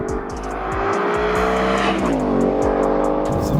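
A Ford Mustang GT V8 of over 450 hp roars loudly and steadily, engine revving hard with rising pitch from a standing start on a track, close and dominant throughout with no talk.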